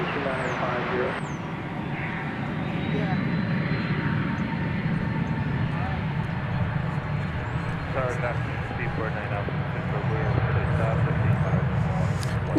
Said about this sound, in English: That is Finnair, Flight 19, going back to Helsinki.